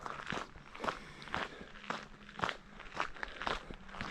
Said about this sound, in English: Hopefully my shoes aren't making too much of a noise.